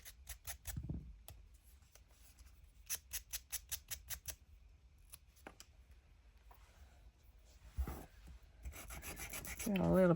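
Sandpaper rasps along the edge of a sheet of junk journal paper in a run of short, rhythmic strokes, close and fairly quiet, with scattered pauses and rustling between passes.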